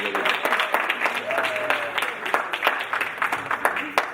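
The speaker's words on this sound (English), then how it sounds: "So give them a round of applause." Applause from a crowd at a school fundraiser, a steady patter of many hands clapping, with some voices mixed in underneath.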